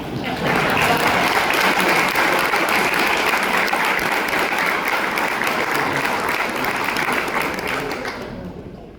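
A large audience at an anniversary celebration of a German cultural society in Joinville applauds loudly and continuously for about eight seconds, then the clapping tapers off quickly.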